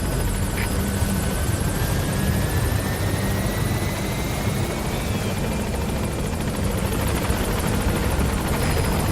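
The Pequod helicopter arriving at a landing zone in Metal Gear Solid V: The Phantom Pain; a loud, continuous rotor roar and engine whine that holds steady throughout, with no talk.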